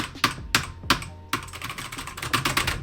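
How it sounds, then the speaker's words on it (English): Computer keyboard typing at a home streaming setup: loud, close bursts of clacking keystrokes in quick irregular runs, with sharper isolated key strikes early on and denser typing toward the end, no voices. "That's his keyboard."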